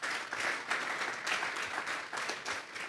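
A church youth-service congregation claps loudly together, a dense steady burst of applause that stays strong for the whole stretch with no voices on top.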